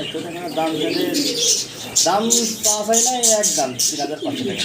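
Pigeons coo and call in a seller's loft while someone talks over them, the soft throaty coos and chirps close by and partly masked by speech.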